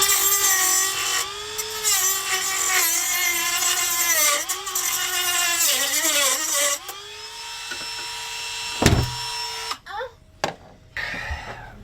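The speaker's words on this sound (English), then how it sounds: "Let's cut the batteries in half." Batteries being sawn in half with a power saw on a remote outback boating trip, a loud whining cut with wavering pitch for several seconds, then the blade stops and a few knocks and clatters follow.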